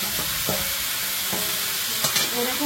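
Prawns and crab fry in a pan, salted and with turmeric, giving a steady close hiss broken by a few scraping stirs, with no voices.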